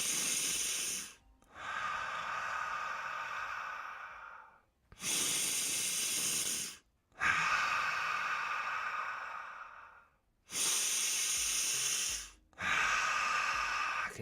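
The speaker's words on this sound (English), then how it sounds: "Breathe along with me." Slow, deep human breaths, close and unhurried: several long inhalations and exhalations alternate with brief pauses, each breath a loud, airy rush that fades gradually, with no talking.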